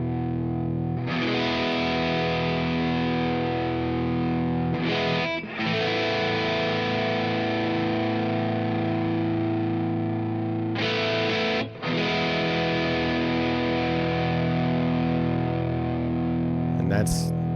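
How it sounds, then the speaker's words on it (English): Electric guitar played through a big distortion pedal in the BIAS FX app: thick, sustained distorted chords and notes ringing loud and continuous, with two brief breaks between phrases. "that's a bigger distortion pedal basically for that solo whenever I kick that on"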